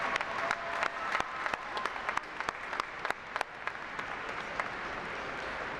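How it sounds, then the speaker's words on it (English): Graduates and audience applauding at a fall commencement ceremony, a broad wash of crowd clapping with distinct nearby claps standing out, steady throughout. "why don't you give your parents, your family, and friends a round of applause for their support and encouragement."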